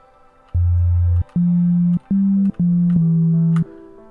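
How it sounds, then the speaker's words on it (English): A synthesizer plays a sine-wave tone as a short run of five clean, sustained notes stepping in pitch, each separated by a brief gap and heard alone. "So we've got a sine wave, which sounds like this."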